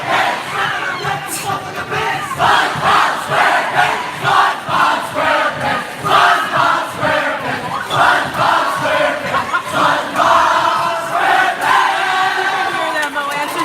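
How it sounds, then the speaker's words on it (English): Fans at a high school volleyball match between Immanuel and Gilmanton chant a cheer in rhythmic, repeated bursts for the Lancers' serve, loud and close, with crowd voices overlapping throughout. "Lancers have a cheer on every serve."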